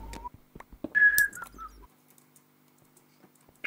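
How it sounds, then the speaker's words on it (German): A single brief whistled tone from a person, short and fairly clear, followed by near silence with faint scattered clicks, set against quiet Minecraft game sounds. "jetzt anfangen mit pfeifen muss jetzt nicht"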